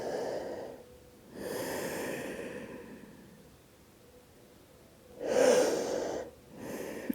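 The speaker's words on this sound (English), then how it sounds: "Let's take 2 more breaths." Slow, deep breaths during a yoga flexibility practice, two long audible inhale and exhale cycles with airy rushing tones, close and quiet, with no talking.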